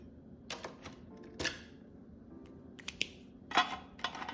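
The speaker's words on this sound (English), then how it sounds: "with a normal Cricut pin, you know, it has the adapter, and when you go in, it clicks in" A Cricut pen snaps into its plastic adapter with several sharp, close clicks spread across a quiet room, the last one loudest.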